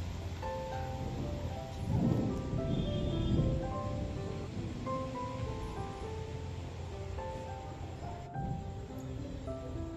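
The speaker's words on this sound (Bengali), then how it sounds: "মেঘটা পুরো অন্ধকার করে আছে আর ঝিরঝির করে বৃষ্টি পড়ছে আর ঝড়ের মতন হাওয়া" A thunderstorm with light drizzling rain and gusty wind, a deep rolling rumble of thunder swelling and fading over a steady wash of rain and wind noise.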